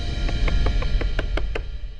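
Someone raps quickly on a door, about eight crisp knocks in an uneven run over a low background hum.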